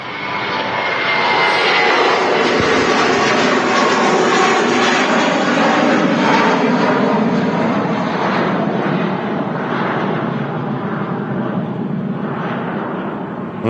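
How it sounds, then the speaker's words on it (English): A Lufthansa Airbus A321 jet rotates on takeoff at Manchester Airport in the evening, a loud sustained roaring engine rumble that swells and holds steadily close by. "A321 rotating."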